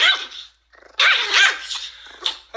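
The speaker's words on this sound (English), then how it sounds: "I come home and I pet my dog." A dog barks and growls while being petted, with a few close, loud bursts of snarling barks separated by short pauses.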